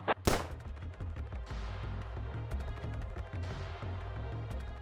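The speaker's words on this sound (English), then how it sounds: "Might as well take the headshot on." A sharp headshot gunshot cracks at the start inside the video game Rebel Cops, followed by a low game soundtrack and scattered soft in-game clicks and thuds.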